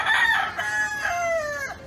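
Chickens perched on a roof in the evening, one rooster crowing a long, drawn-out call close by, with a second overlapping crow and faint background noise, no talk.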